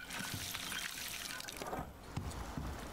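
Water pours from a canteen onto crops in the survival game Icarus, a steady trickling splash running under a voice talking throughout.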